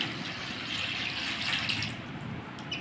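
Water poured into a pot of peeled mangoes for mango panha, a steady close splashing pour running throughout with no talk.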